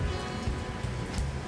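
Steady rain pours down during a storm on a remote, rugged route, a continuous dense hiss of drops close by with no voices.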